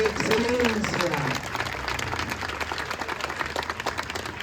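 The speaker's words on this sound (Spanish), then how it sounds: "Un aplauso al santo taumaturgo por excelencia." A church congregation breaks into applause for Saint Anthony of Padua, many hands clapping in a steady patter after a voice speaks at the start.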